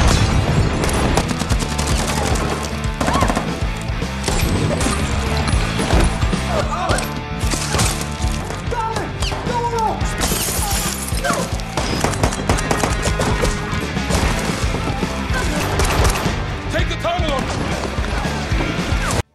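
Gunfire rattles through a shootout between rebels and palace soldiers in an action film, dense continuous bursts mixed with music and effects for the whole stretch, loud throughout.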